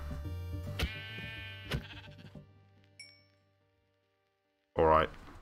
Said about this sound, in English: I put some sheep out here, didn't I?